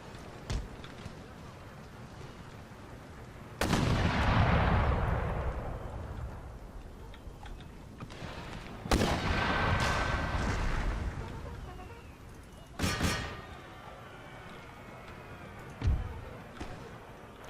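Booming artillery and crackling musket volleys from the Empire Total War video game battle erupt in several heavy blasts spaced a few seconds apart, over a constant low rumbling battlefield background.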